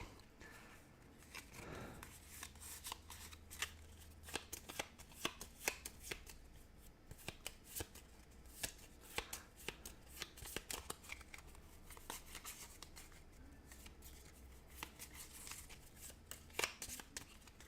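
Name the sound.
shuffling playing cards back into deck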